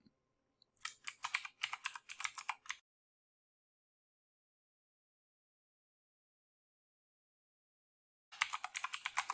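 Typing on a computer keyboard in two bursts of rapid, close key clicks, the first lasting about two seconds and the second starting near the end after a long silence.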